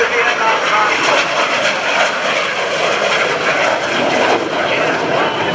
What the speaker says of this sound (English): we see an aircraft taking off that served mightily during the Vietnam conflict